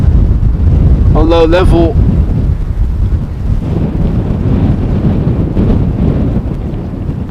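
Strong crosswind at Amsterdam Schiphol airport roars and buffets a microphone with continuous low rumble throughout, while a voice briefly speaks over it near the start.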